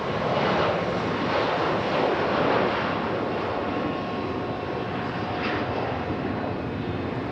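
A jet airliner takes off from Raleigh-Durham International Airport, its engines a broad, steady roar with no voices over it, swelling slightly and then holding strong as it climbs away.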